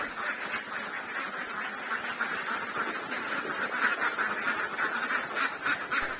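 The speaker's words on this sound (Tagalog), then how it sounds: "Ang ating mga Muscovy duck naman, nag-aabang na mayroong malaglag na mga feeds." A flock of Muscovy ducks on a farm calls at feeding time, with dense overlapping honking and quacking that stays loud and continuous and is heard alone.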